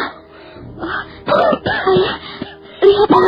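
A father character coughs up blood in an Indonesian radio drama set in old Kediri, giving harsh, strained coughs and groaning wheezes in close bursts, some voiced and moaning, with short pauses between.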